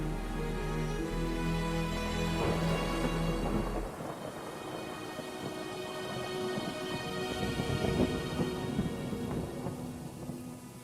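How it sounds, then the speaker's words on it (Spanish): Steady rain pours down with rolling thunder, a dense hiss of drops striking surfaces alongside low, sustained rumbling that swells and lingers across the whole stretch, with no voices. "Cris, ahora en cuanto deje de llover ya me marcho"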